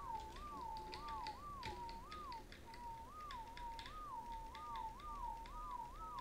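Repeated rising-and-falling whistle calls, about a dozen in a steady rhythm, used to command tamed dinosaurs in ARK: Survival Evolved Extinction, sounding clear over game ambience with faint clicks and no talk.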